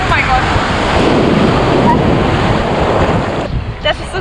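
An ocean wave crashes and washes in a continuous roar at Playa Marlín, Cancún, with heavy wind buffeting close to the microphone.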